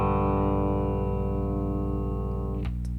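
An electric guitar sustaining a distorted, bent low-string note from a lick, a steady loud ringing tone that shifts near the end with a couple of short picked accents.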